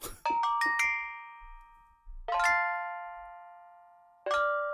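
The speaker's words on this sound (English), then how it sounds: "But this is a cowbell sample." Bright metallic cowbell-like strikes from a synthesized cowbell sample, with long ringing tails: a quick run of four hits, then two single strikes spaced apart, each fading slowly.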